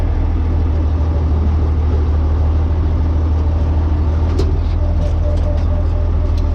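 Farm tractor pulling a manure spreader forward in a cow yard: a loud, steady low diesel drone and rumble throughout, heard up close with no talking.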